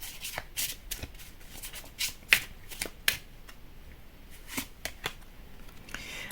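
Tarot cards being shuffled by hand during a reading, a close, quiet run of papery riffles and sharp snaps in irregular bursts, with no speech over them.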